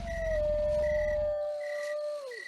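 A single long wolf howl on an ambient fantasy soundtrack holds a steady pitch and then bends downward at the end, with crickets chirping faintly behind it and no talking.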